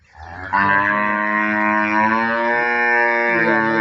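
Large cattle on a village farm give one long, deep, loud moo that swells quickly and holds steady for several seconds, close by with no talk.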